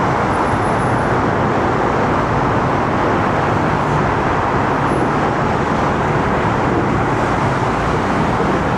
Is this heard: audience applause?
no